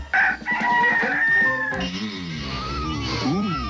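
A cartoon rooster from a 1990 Kellogg's Corn Flakes commercial crows loudly and close, a long rising-falling cock-a-doodle-doo, then a lower sung or voiced phrase follows over music.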